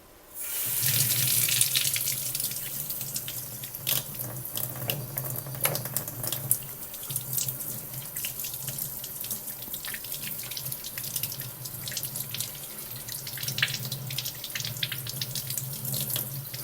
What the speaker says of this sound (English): try to wash my hands as quietly as possible for you guys